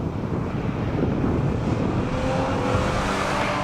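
A Ford Mustang V6 Track Pack runs hard on a race track, its engine a steady roar heard from inside the car and blended with heavy wind rush, with a rising engine tone toward the end.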